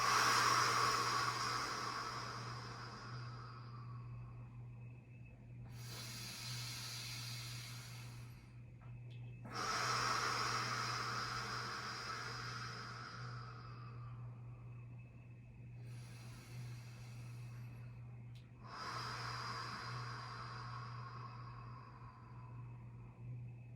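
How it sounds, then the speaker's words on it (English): Slow, deep yoga breaths during a mountain core session, long airy inhales and exhales alternating in broad waves of hiss, steady and close, with a low constant hum beneath. "Breathe in. Breathe out."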